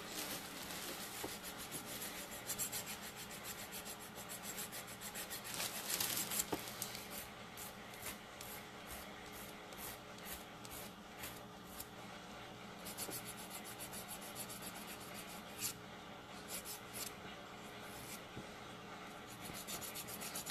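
A nail file rasps back and forth over a dip powder nail to reshape a squarish edge, a soft, close, repetitive scratching with brief pauses between strokes, quiet and without talk.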